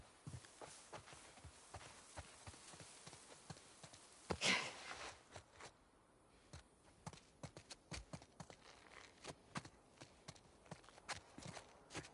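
Horse hooves clop in The Last of Us Part II, a steady run of quiet, regular footfalls in a game scene, with one louder burst partway through.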